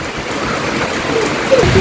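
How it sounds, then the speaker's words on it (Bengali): Steady rain falling in a Bangladeshi village during the rainy season after a storm, a continuous soft hiss close by with no distinct drops or thunder standing out. "এখন তাও একটু নীরবে বৃষ্টি হইতেছে"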